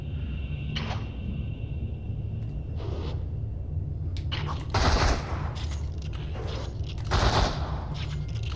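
Gunshots from weapons in the VR shooter Dead and Buried II at a shooting range: scattered sharp cracks, then two louder bursts of rapid fire near the middle and end, over a steady low background hum.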